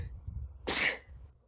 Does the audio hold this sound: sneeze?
yes